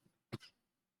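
A single short, sharp cough from a man, close and fairly quiet, standing alone against near silence after a faint breath.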